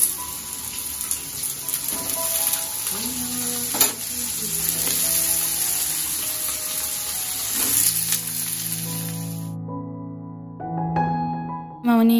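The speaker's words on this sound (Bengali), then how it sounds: "মামনি এখানে আলুটা ভাজছে" Potatoes fry in a home kitchen pan, a steady close sizzle with a few sharp clinks and utensil knocks, then it cuts off suddenly before a short burst of clatter at the end.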